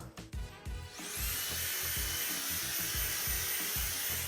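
A compressed-air gun blasts thick sawdust off a board to uncover a message written in carpenter's pencil, a loud steady whoosh that begins after a second and holds, over low rhythmic workshop thumps.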